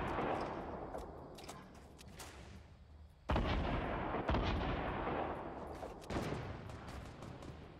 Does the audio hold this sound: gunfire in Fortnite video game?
yes